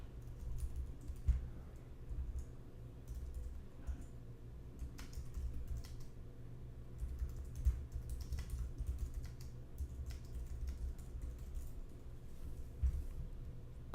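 Soft, continuous typing on a computer keyboard as a new email message is composed, irregular keystrokes with occasional louder taps over a low background hum, no voices.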